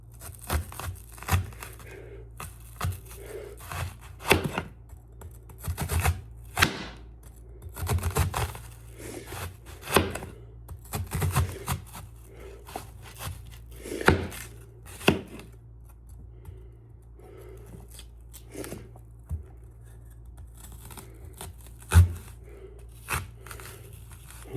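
A knife chops onion on a cutting board in irregular bursts of sharp thuds and crunches, close and fairly loud, with pauses between strokes and a low background hum.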